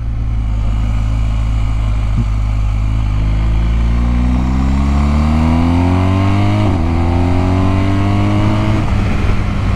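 A 2022 BMW R1250GS motorcycle accelerates hard through the gears, its loud, close engine note rising in pitch, dropping at each shift and climbing again, with no talk.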